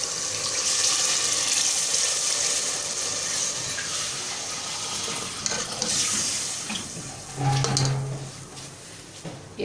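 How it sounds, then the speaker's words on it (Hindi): Water added to a pot of chicken biryani with rice while cooking, a steady broadband rush of pouring running continuously at close range, with a brief louder splash near the end and no talking. "हम इसके अंदर पानी ऐड करने लगे हैं।"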